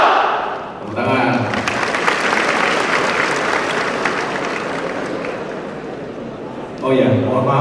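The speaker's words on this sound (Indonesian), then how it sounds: "Tepuk tangan." Crowd of attendees at a higher-education transport event claps loudly and continuously for nearly six seconds, a full broadband roar, with a microphone voice speaking before it begins and again as it fades.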